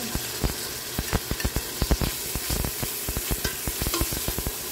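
Chopped pepper and tomato sizzle in a hot frying pan, a steady crackling hiss broken by repeated sharp scrapes and knocks of a spatula stirring at a brisk, uneven rhythm, close and alone.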